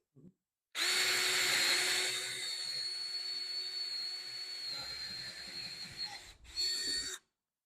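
A Ryobi drill bores with a rusty 3/8 or 1/2 inch bit in a garage, a loud steady whine with a high tone that runs for about six seconds, dips briefly and then surges again before stopping.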